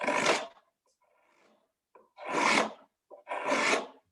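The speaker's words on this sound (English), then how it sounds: "And now I hollow out the ball some more. Again, first with the small radius gouge." A small radius gouge scrapes out the bowl of a wooden spoon on a spoon mule, three firm rasping strokes with short pauses between them and faint quieter scraping in one gap.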